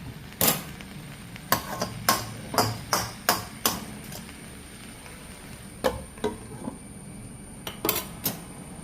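A cooking pot of Kerala aviyal vegetables is covered with its metal lid, giving a scattered series of sharp clanks and clatters, some close together, with quieter gaps between them.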